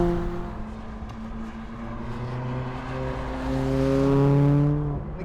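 McLaren 620R driving on a wet race track, its engine revving hard through quick gear changes with a rising and falling roar, loud and close throughout.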